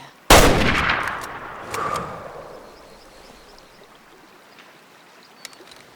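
One loud hunting-rifle shot rings out in the hunting game Way Of The Hunter, followed by a long rolling echo that fades slowly into quiet outdoor ambience. No one talks.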